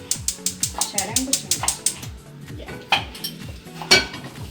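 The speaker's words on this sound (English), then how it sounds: "Maleja's putting the pan on the stove with some oil" Pots and pans clatter and cutlery clinks in rapid, rhythmic bursts as a pan with oil goes onto a kitchen stove, with brief stirring and faint sizzle underneath.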